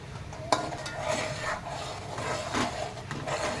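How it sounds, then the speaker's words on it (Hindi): Tomatoes hit about five tablespoons of hot oil over a high flame for a spicy chicken dish, with a sharp clink near the start and then a steady sizzle and stirring scrapes throughout. "अब इसमें मैं टमाटर डाल दूँगी। ये हाई फ्लेम पे हमको टमाटर भूनना है।"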